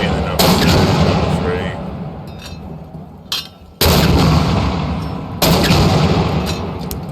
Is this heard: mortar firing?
yes